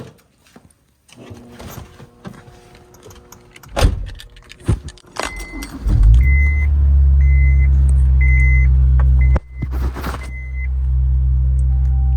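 A Honda S2000 engine with a modified air box starts up and settles into a steady, loud drone with a deep low-end rumble, punctuated by faint repeating chimes and a few clicks.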